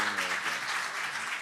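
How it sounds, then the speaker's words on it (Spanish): Applause from a conference audience welcoming the speakers of a talk on wills and inheritance, a steady broadband wash of clapping over a short stretch, with faint voice-like tones underneath. "un muy fuerte aplauso a nuestros ponentes"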